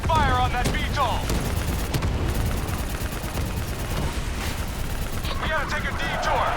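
Sustained heavy gunfire aimed at a VTOL aircraft in the Call of Duty: Black Ops III campaign, a loud continuous barrage with rattling bursts and booms throughout, with voices calling out over it.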